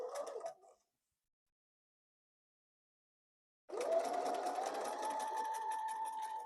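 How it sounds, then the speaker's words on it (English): A sewing machine top-stitches flannel binding on a baby blanket, a short burst, then silence, then a sustained close whirring run with a steady motor tone. "we're going to stitch it down"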